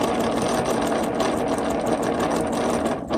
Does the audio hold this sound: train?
no